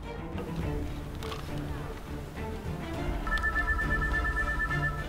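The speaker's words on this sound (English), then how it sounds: "Can you hear some sort of ringing?" A phone rings in an outdoor scene, a faint electronic ringtone tone entering partway through and repeating under ambient noise and brief voices nearby.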